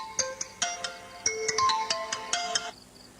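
A mobile phone rings with a bright, repeating melodic ringtone of quick chiming notes that plays loud and clear for about three seconds, with no voices over it.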